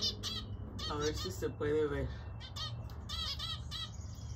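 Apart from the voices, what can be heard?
birds and chicks calling in an aviary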